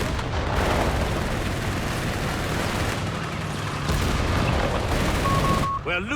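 Mortar barrage and artillery fire in Company of Heroes 3 rumble in a dense, continuous wash of blasts and gunfire, loud throughout with a brief lull near the end, while a voice speaks over it.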